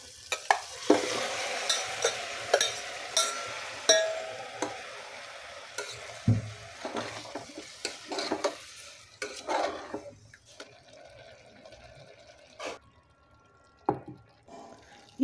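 Meat fries with tomato in a pan for naati biryani, stirred by a metal spoon. Busy scraping and clinking knocks come over a soft sizzle, thinning out toward the end into sparse taps.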